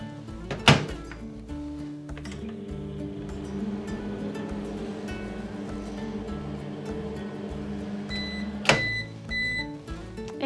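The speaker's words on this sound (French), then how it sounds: "je vais le faire fondre au micro-ondes" A microwave oven hums steadily for several seconds between two sharp door thunks, one at the start and one near the end.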